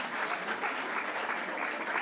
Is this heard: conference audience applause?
yes